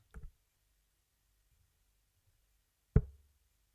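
Two sharp knocks about three seconds apart, the second louder and crisper, like tungsten darts thudding into a dartboard and crunching together against another dart's tungsten and plastic, with near silence between.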